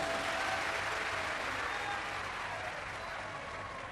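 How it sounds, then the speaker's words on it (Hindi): A large audience at a Shiv Mahapuran religious discourse in Bhilai claps together in a dense, sustained roar of applause that stays loud throughout and tapers only slightly toward the end. "एक बार जोरदार ताली बजाओ"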